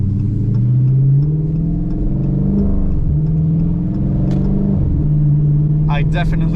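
A Dodge Challenger R/T with a throaty aftermarket exhaust revs up and settles repeatedly, deep and rumbling, close by.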